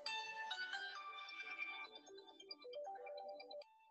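Telephone ringtone playing a melodic electronic tune, loud and alone, with repeated tonal notes over a few seconds before stopping.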